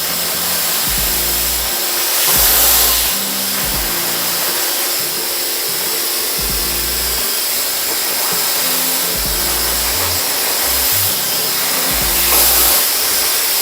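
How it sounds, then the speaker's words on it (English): A hair dryer blows steadily and loudly close by while a round brush styles a man's hair system, with a low musical backing underneath. "With the rest of the hair, I like to blow dry again back at the side, just rolling your brush."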